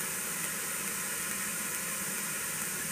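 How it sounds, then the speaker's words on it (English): Steady, even white noise, a broad constant hiss with no variation or pauses, loud and alone throughout. "I really like the quality of this white noise."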